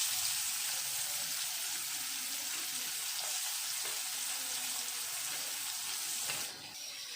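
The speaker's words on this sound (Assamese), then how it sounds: "পিঁয়াজখিনি মই এইবাৰ ভাজি ল'ম।" Chopped onion sizzles steadily in a hot pan at home, a continuous frying hiss that runs alone for several seconds and softens slightly near the end.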